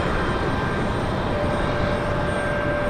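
A jet airliner departs Raleigh Durham airport at night on a ferry flight to Charlotte, its engines a steady, loud broadband roar that holds without letup, with a faint tonal whine riding on top.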